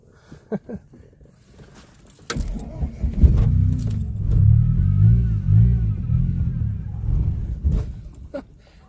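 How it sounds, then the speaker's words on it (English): After a few clicks and jangles, a Camry engine starts and revs hard in reverse, pulsing up and down in a strained, wavering drone before easing off. "I'm gonna go in reverse this time."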